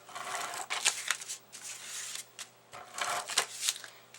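An ATG tape gun runs adhesive along the edges of a handmade card, giving a series of soft, close rasping and clicking strokes in uneven bursts with brief quiet gaps.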